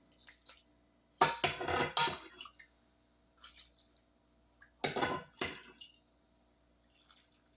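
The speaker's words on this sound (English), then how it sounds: "Now we're gonna add our broth in now." Broth poured into crumbled cornbread dressing in a pan, making wet, splashing pours in two main bursts with softer dribbles and drips between, close and fairly loud.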